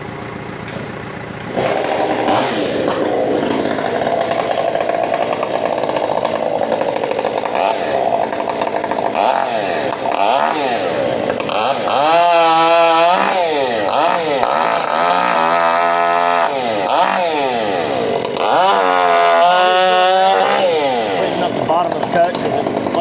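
A loud new 550 chainsaw roars up close, its engine revving and bogging down in long surges as it bites through sweetgum wood.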